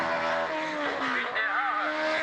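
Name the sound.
Marcos race car driving on circuit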